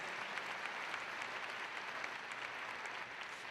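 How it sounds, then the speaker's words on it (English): A graduation crowd at a fall commencement ceremony gives faculty and staff a round of applause, a broad, even wash of clapping from a large hall, heard somewhat distant and quiet, with no voices over it. "Give your faculty and staff a round of applause for teaching you to walk with confidence"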